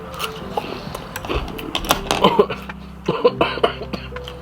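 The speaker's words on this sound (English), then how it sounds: "this cough I have is ridiculous." Several harsh, irregular coughs and throat-clearing bursts from a person with a bad cough, close and fairly loud, coming in uneven clusters without speech.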